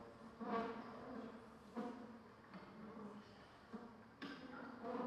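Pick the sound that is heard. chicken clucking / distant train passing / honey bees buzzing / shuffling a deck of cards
honey bees buzzing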